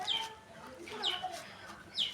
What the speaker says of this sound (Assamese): হাঁহ মুৰ্গীয়ে ওচৰত চিঞৰি আছে